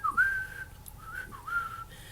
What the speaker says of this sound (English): that was a terrible whistle. I usually whistle better than that.